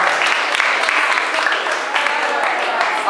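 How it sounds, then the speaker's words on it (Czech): Audience applause at a triexpert and adidas training results ceremony, a dense, continuous burst of clapping from a crowd, loud and steady throughout. "Ivan, my zatleskáme."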